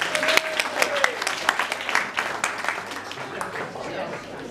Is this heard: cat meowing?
no